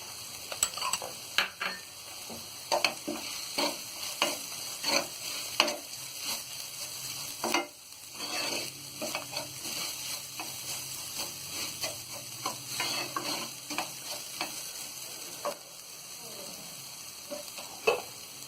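Dried fenugreek leaves go into frying eggplant bharta, giving a continuous sizzle under frequent sharp clicks and scrapes of a spoon stirring against the pan, close and without speech.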